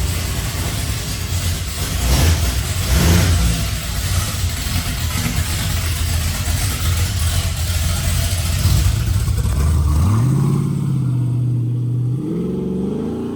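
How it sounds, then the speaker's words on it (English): A Chevy squarebody truck engine, with part of its exhaust removed, rumbles loudly and rises in a couple of revs before settling to a throaty idle, close and continuous. "I decided to take some of the exhaust off because let's be real, 3 mufflers makes this thing a little too quiet for me."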